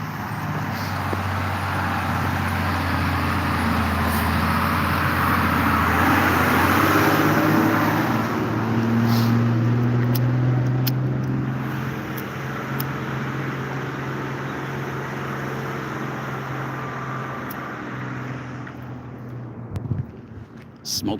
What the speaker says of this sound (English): Let me let this truck pass.